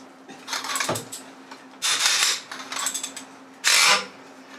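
A ratchet fitted with an extension bar works on tight wheel bolts of a VW Up, giving three bursts of close, rasping clicks separated by quieter handling noises and short pauses.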